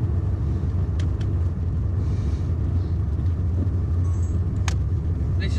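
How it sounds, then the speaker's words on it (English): An old car in fifth gear juddering as its engine labours without enough power, a steady low rumble from inside the cabin with a few faint knocks and no talk. "Car's juddering a bit. That's because I was in fifth gear."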